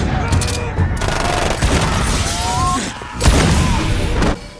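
Gunfire from a scene in the 2017 Ghost in the Shell film, dense bursts of shots and impacts mixed with score and effects, loud and continuous under occasional voices.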